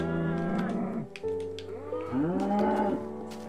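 A Minecraft cow lets out two drawn-out moos with a short gap between them, loud and close. The second moo bends upward in pitch. No one speaks over it.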